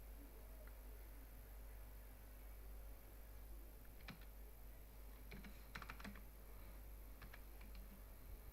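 Someone types on a computer keyboard, quiet sparse key clicks in small clusters over a steady low hum of background noise.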